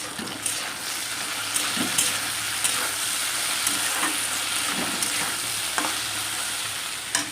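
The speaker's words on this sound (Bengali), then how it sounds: "ভেন্ডি ভাজা" Okra (bhindi) frying in a pan during home Bengali cooking, a continuous bright sizzle with occasional stirring clicks and scrapes at irregular intervals, close and fairly loud, no talking.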